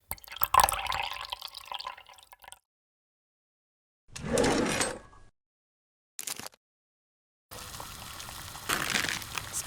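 Water drips and gushes in a miniature kitchen, in separate short bursts broken by complete silences, close and fairly loud, with no talking.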